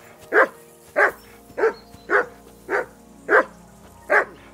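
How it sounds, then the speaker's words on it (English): A dog barks in Kingdom Come: Deliverance 2, seven sharp, evenly spaced barks at close range over a quiet background. "Call off that damn dog before he wolfs down the last of our meat."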